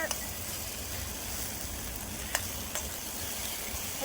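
Chilli and anchovies sizzle steadily in hot oil for sambal ikan bilis, a dense continuous frying hiss with a couple of faint clicks from stirring.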